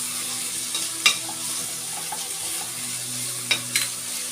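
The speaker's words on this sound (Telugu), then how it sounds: "ఇప్పుడు దీనిలో అల్లం వెల్లుల్లి పేస్ట్ వేసేద్దాము." Ginger garlic paste frying in a pan on low heat for veg fried rice, a steady close sizzle with a few sharp stirring scrapes and clinks.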